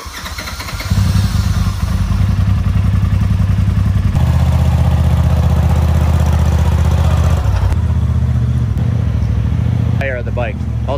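A Polaris RZR Turbo S runs loud and close as it is backed into a garage, its engine droning and revving steadily with clattering mechanical tones, while people talk over it.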